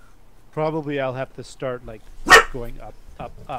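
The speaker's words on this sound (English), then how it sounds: "sorry for the dog barking" A dog barks indoors several times in quick succession behind someone talking close to the microphone, the barks sharp and fairly loud against his voice.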